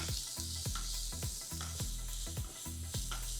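A spiced zunka mixture with green chillies and garam masala is stirred in a hot pan. A spoon scrapes in a steady, repeated rhythm over a constant sizzle, close and fairly loud, with no talking.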